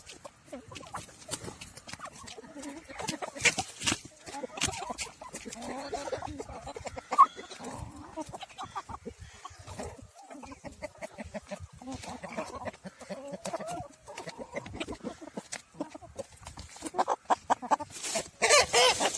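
A flock of geese and chickens clucking and squawking busily while being fed in a small backyard coop, with dense overlapping calls and pecking continuing for the whole stretch, close and fairly loud.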